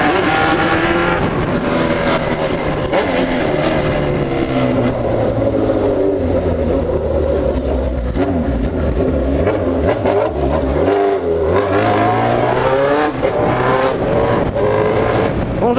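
A pink metallic Suzuki B-King motorcycle rides away through city streets, its engine revving loudly and continuously with rising and falling pitch as it accelerates and shifts, close and dominant throughout.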